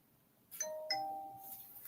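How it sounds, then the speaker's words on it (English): A doorbell rings with two clear chime tones, ding then dong, close and clean over a quiet background, the second note ringing out and fading slowly. "Ding dong."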